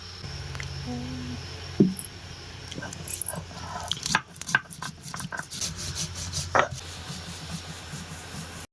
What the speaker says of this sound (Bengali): দিয়ে দেব আদা আর কয়েক টুকরো রসুন এটাকেও থেতো করে নেব